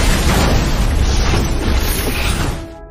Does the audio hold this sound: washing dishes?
no